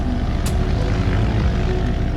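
Seaplane with a propeller engine taking off, a steady, loud, close drone of engine and airscrew roaring throughout without pause.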